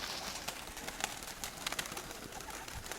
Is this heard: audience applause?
no